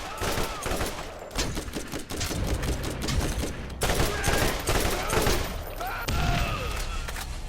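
An automated turret in Borderlands firing, with dense rattling bursts of gunshots and mechanical clatter coming in repeated volleys, loud and busy throughout, with game effects layered over them.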